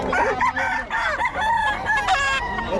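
A Boston Sweater gamefowl rooster, offered for sale in Bocaue, crows loudly and close by in repeated harsh, strained calls over nearly three seconds, mixed with clucking from other fowl and no talking.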